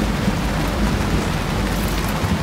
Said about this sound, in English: That night we had another big thunderstorm with lots of lightning.